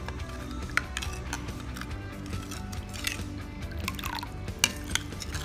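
A spoon stirs cumin powder, red chili powder and salt into pani puri water, with quiet liquid swishing and a few light clinks against the bowl, close and soft.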